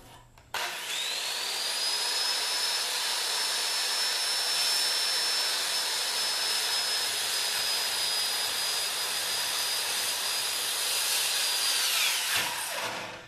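Power saw cutting through thick 4-inch wood for a small engine repair work bench, a loud, sustained high-pitched whine that holds steady for about twelve seconds before the blade spins down.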